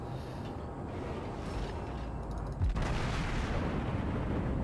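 Guns of the battleship Fuso firing shells in World of Warships, one sharp booming shot rising out of a steady low ship rumble, with no talking.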